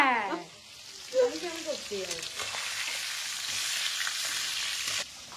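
Chicken pieces frying in a pan for a spicy chicken curry, a steady close sizzle and hiss after a brief utensil clatter at the start, continuing evenly until it cuts off near the end.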